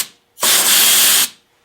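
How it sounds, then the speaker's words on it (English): A can of compressed air, the kind used for cleaning keyboards, gives one loud, steady hissing spray burst lasting under a second, close up and alone. "I have this air, like stuff you use to clean off your keyboard"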